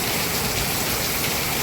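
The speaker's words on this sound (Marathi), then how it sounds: "मधला जोरानं लागला पाऊस." Heavy rain pours in a steady, dense hiss that fills the whole short moment, loud and close, with no voices.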